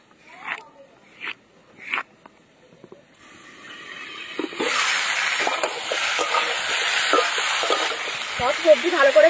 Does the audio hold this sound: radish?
yes